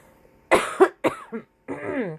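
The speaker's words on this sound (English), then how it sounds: "Coughing in my elbow, guys." Several sharp coughs into an elbow in quick succession from someone close by, followed by a voice starting to speak.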